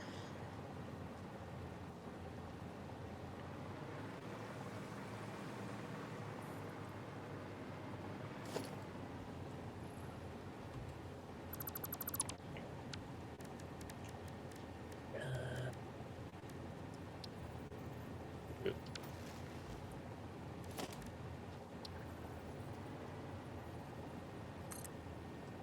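Rain falls in the factory-building game Satisfactory during multiplayer play, a steady, faint hiss throughout, with a few scattered clicks and taps.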